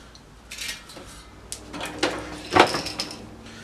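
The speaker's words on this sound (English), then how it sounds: "Simply close the door over top of it." A metal door on a Big Buddy propane heater is swung shut, giving a few light clanks and a rattling metallic clack near the end, close and fairly quiet with no talk.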